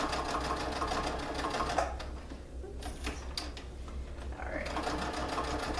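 A sewing machine runs steadily, stitching to reinforce a seam on a large fabric tote bag, with rapid, even needle chatter that pauses briefly in the middle before starting again.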